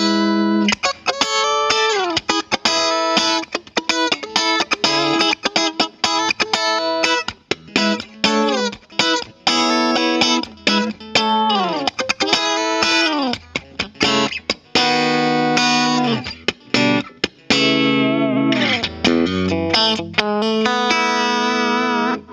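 An 80s electric guitar plays a continuous run of plucked notes and chords with a distorted, effect-laden tone, reverb off and dry rather than echoing, with no voices.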